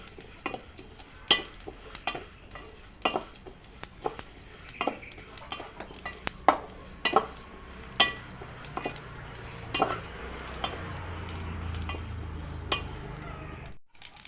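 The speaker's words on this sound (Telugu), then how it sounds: "చిన్నగా మంట పెట్టుకొని మంచిగా ఎంచుకోవాలి నువ్వులు" Sesame seeds toast dry in a pan on a low flame while a spatula stirs them, making repeated scraping clinks and knocks at an uneven pace over a faint background hiss that drops out abruptly at the end.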